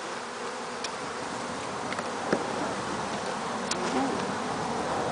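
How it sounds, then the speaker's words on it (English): Honeybees hum at an opened hive, a constant close buzzing drone with a few sharper passes of individual bees flying near, continuing evenly throughout. "this is when the bees start getting a little angry"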